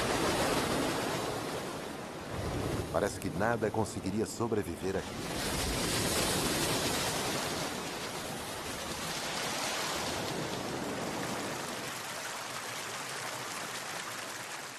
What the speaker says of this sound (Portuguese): Na maré baixa, ondas enormes quebram na praia.